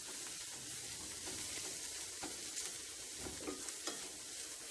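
Egg curry masala being stirred in a pan gives a steady low sizzle and frying hiss. Soft, irregular scrapes of a spoon come through it, fairly quiet and close, with no talk.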